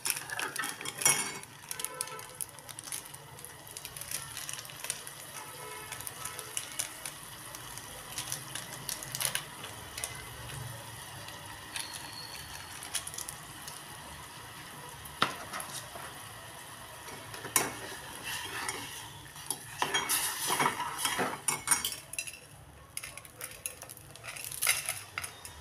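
Maggi noodles with masala spice are stirred in a pan, a utensil scraping and clinking against the metal with a light sizzle that rises and falls in busy, irregular bursts.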